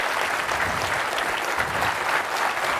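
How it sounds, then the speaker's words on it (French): Loud, sustained applause from a French game show studio audience, dense and continuous clapping with no breaks. "Applaudissements pour notre candidat Serge et son épouse Laurence."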